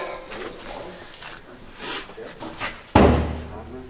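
An old truck door is handled, then shut hard with a single loud, close thud near the end after some shuffling and rattling, with people talking around it.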